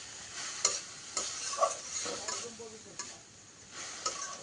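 A drumstick leaf stir-fry is stirred in a pan. Quiet, intermittent stirring strokes and soft scrapes sit over a faint, low sizzle, with no talk.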